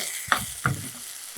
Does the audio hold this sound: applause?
no